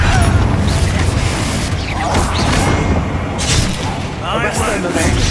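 In the video game Hogwarts Legacy, the Confringo blast spell lands as repeated booming explosions and crashes, with a shouting voice over the top.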